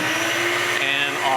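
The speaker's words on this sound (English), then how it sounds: "we're going to turn on the vacuum" A Proxxon shop vacuum roars steadily at close range, a constant broadband whine with a talking voice underneath.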